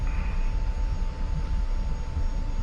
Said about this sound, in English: I'm just going to take off on this and call it a day